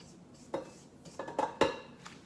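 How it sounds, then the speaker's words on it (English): A spatula scrapes flour down the sides of a mixing bowl while making chocolate chip cookie dough, giving a few quiet clinks and scrapes in short, irregular strokes close up. "Just scraping the sides, get the flour down."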